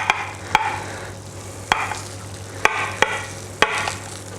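A fish slice cuts portions of beef lasagne in a dish, making sharp scraping taps against the dish, about five spaced knocks over quiet kitchen background noise.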